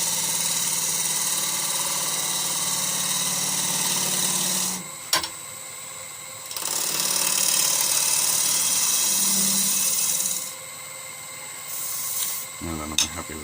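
A wood lathe spins a Balinese teak vase while a light finishing cut cleans its surface. A steady motor hum and scraping hiss rise and fall in long stretches, broken by brief pauses and a few clicks.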